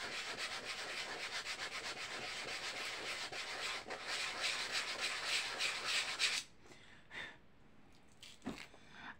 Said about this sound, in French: je prends la machine et puis je le ponce